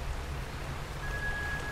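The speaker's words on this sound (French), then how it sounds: "Et il pleut." Steady rain falling in the fishing video game Dredge, a soft, even hiss of drops with no voices, holding at a constant low level throughout.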